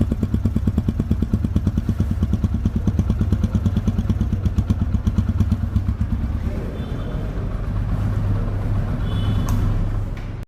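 A nearby 2020 Apache RTR 2V motorcycle engine runs with a fast, steady putter, then shifts to a smoother, lower hum toward the end.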